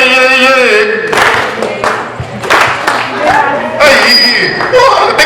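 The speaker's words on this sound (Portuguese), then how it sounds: "Palmas pra vocês" A school audience claps in scattered bursts, with cheering, chatter and chuckles mixed in, while a voice speaks over the applause.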